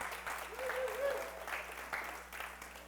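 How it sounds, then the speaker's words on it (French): An audience at a French-speaking talk applauds, a faint, soft wash of clapping with murmuring voices mixed in, fading slightly toward the end. "Est-ce qu'on peut l'applaudir?"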